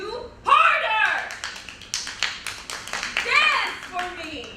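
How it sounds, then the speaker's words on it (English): A quick series of hand claps, sharp and irregular, mixed with a voice talking and exclaiming nearby. "Clap for me."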